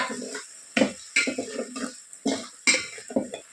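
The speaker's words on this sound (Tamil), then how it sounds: "சேர்த்துட்டு ஒரு டைம் நல்லா கிண்டி கொடுத்துக்கோங்க" A spoon stirs egg mandi biryani masala with dried lemon in a pot, giving a run of close metallic clinks and scrapes in an uneven rhythm.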